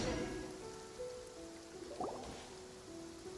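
Steady rainfall pattering in a downpour in the game Genshin Impact, a soft continuous hiss with faint tonal music and brief sound effects over it.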